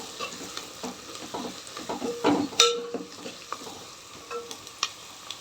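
Curry leaves and turmeric frying in a pan for a Telugu onion gravy, a soft, steady sizzle with stirring scrapes and a louder crackling burst midway, close and alone.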